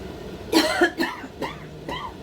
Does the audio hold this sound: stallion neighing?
no